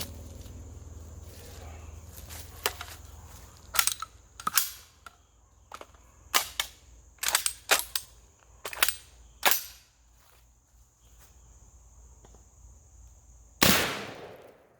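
An Armelegant ANG-4 12 gauge AR-style semi-automatic shotgun fires at a range in irregular sharp reports, some close and some more distant, spread over several seconds with quiet gaps and a heavier blast near the end.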